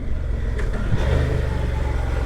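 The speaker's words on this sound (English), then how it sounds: "Nice bit of engine braking." A Honda Transalp motorcycle engine braking while riding, steady mid-pitched engine drone with wind rush throughout, no voice.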